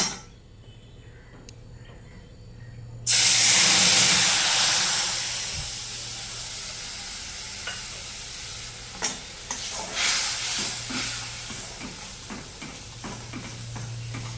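Spice paste mixed with water hits hot oil tempered with nigella seeds, bursting into a loud sizzle after a few quiet seconds, then settling into steady frying with occasional stirring scrapes, all close by.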